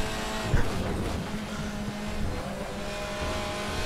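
BMW and Audi DTM race cars roar around the Hungaroring in a racing video game, a steady engine drone with a brief louder burst early on, continuing without speech.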